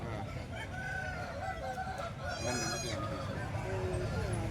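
A rooster crows loudly at an outdoor hen market, one drawn-out call rising over a busy background of clucking fowl and people talking nearby.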